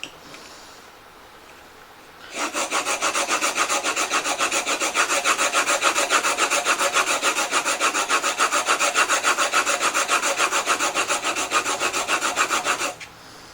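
A plane blade with a radiused edge is honed on a sharpening stone, giving a steady, close rasping scrape of rapid back-and-forth strokes that starts abruptly and runs evenly for about ten seconds before stopping.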